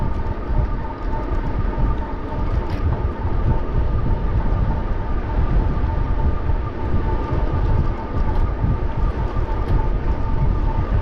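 A Coaster commuter train passes with a loud, steady, close rumble and rolling rail noise that continues unbroken for the whole stretch.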